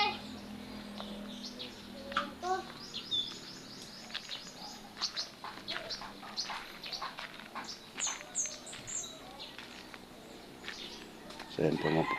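A pet bird being hand-fed banana outdoors, giving repeated bright chirps and short calls scattered through the scene, with rustling, footsteps and a person talking nearby.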